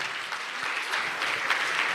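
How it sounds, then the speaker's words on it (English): Audience applause at a book launch event, a steady wash of clapping from a sizable crowd sustained for the full stretch with no voices rising above it. "And a round of applause, please, for Wanja."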